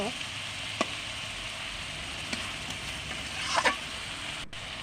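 Fish frying and being stirred in oil in a pan, a steady close sizzle with a few scraping clinks of the utensil and some background voices.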